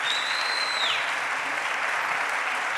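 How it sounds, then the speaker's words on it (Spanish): A seated audience at a plenary civil-society panel gives the panelists a dense, steady round of applause that holds evenly throughout, with a faint tone sweeping over the clapping early on. "le demos un aplauso a los panelistas"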